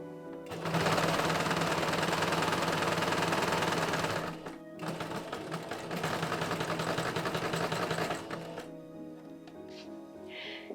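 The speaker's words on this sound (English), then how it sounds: "Attach it to the edge and sew it." A sewing machine stitches a waistband onto short bloomers. It runs in a dense, steady whir, pauses briefly, runs again, then stops, with no talking.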